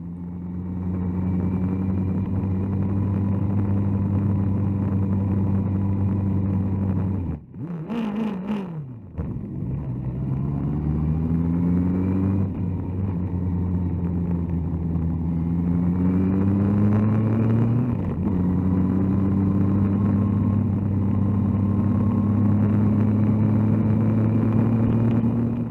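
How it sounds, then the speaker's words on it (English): Motorcycle engine droning steadily at a mountain pass, then a sharp rev blip around a third of the way in and rising, falling pitch sweeps as the revs climb and drop; close, loud and continuous with no voices. "Every rev bomb is a victory."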